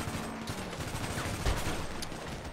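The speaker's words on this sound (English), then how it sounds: "Shooting from highway" Dense video game gunfire rattles nonstop through a five-on-five Rust shootout on a freeway, with overlapping rapid shots and bursts forming a continuous, fairly distant barrage.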